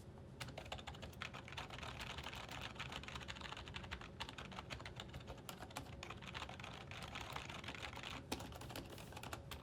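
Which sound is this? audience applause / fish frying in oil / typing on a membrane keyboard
typing on a membrane keyboard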